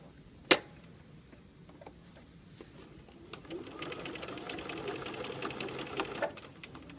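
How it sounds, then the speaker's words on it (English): A sewing machine stitches French binding onto fabric, starting after a sharp click with a quiet pause, then a steady rapid mechanical whirr of needle strokes running close and alone until near the end. "Now we will take that to the machine and finish stitching."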